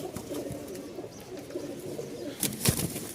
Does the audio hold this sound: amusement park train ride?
no